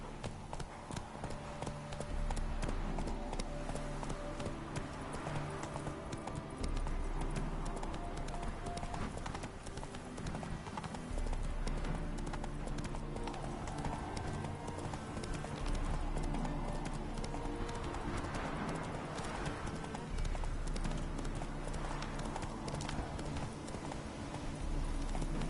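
Horse hooves gallop continuously in The Witcher 3, a rapid rhythmic clip-clop mixed with game music and ambient sound, steady and moderately loud throughout.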